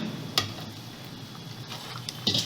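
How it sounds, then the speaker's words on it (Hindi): Gram flour roasts in a large quantity of ghee over a medium flame, a soft steady sizzle broken by a few sharp stirring scrapes, close and without talk. "अब हम इसमें धीरे धीरे करके बेसन ऐड करेंगे"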